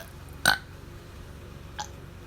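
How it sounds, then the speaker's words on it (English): A single short burp stands out alone against a quiet background, followed by a fainter second sound about a second later. "Just burp."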